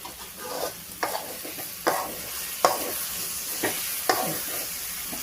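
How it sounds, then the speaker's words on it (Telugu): Masala for Andhra-style chicken curry sizzling in oil in a pan while a spoon scrapes and stirs it, giving regular scraping strokes about once a second over a continuous close hiss. "అలా వచ్చినప్పుడు మనకు మసాలా అనేది బాగా ఫ్రై అయిపోయినట్టు తెలుస్తుంది."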